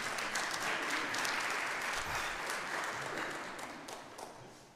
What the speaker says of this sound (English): can we clap our hands for child care?